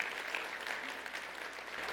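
An audience at an entrepreneurship concert applauds continuously, a full, busy patter of many hands at steady volume from start to finish.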